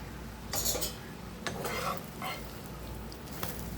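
An egg omelette fries quietly in a pan, with a soft sizzle beneath a few sharp spatula scrapes and clinks against the pan.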